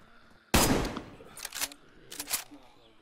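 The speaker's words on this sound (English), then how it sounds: "I'm shooting him." Gunshots in DayZ: one sharp loud crack followed by two quicker pairs of shots trailing off with echo, near and distinct, with quiet moments between.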